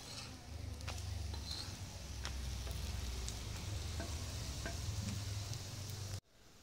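Beetroot coconut poli frying in oil on a pan gives off a steady, close sizzle that lasts several seconds with faint crackles, then cuts off abruptly near the end.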